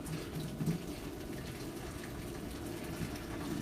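Cold water running steadily into a pot from a tap in a kitchen while cooking steak, a continuous close gushing hiss with no talk.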